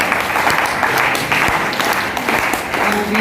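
Applause fills a Vasavi Clubs district micro cabinet meeting, a loud, continuous round of clapping from a gathered crowd that holds steady throughout without speech.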